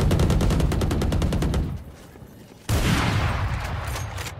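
Rapid automatic gunfire in the shooter game Valorant, a loud close burst of evenly spaced shots, a brief lull, then another dense volley.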